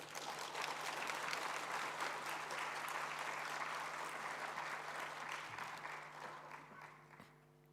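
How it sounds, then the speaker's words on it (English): A large audience at a World Vesak Day gathering gives long, sustained applause, a dense, even wash of clapping over a low hum that slowly dies away at the end. "So please give a big applause to them"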